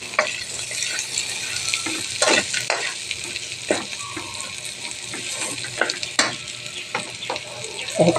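Fatty meat frying with ginger, onion and garlic, a steady oil sizzle punctuated by irregular scraping stirs and clinks, close and fairly loud, no talk.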